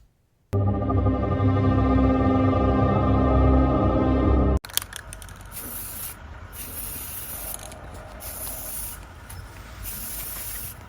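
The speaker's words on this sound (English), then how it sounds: "it's just flat black spray paint" Flat black spray paint hissing from a can in close, repeated bursts, following a few seconds of steady droning hum.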